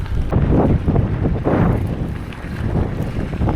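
Loud cold wind buffeting the microphone in low rumbling gusts, rising and falling throughout, during e-bike touring on the Mawson Trail in South Australia.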